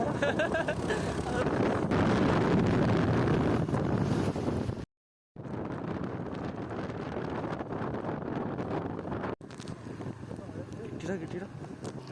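Strong wind near a dam in Valparai rushes and buffets against the microphone in loud gusts, broken by a brief silence, with a voice talking underneath.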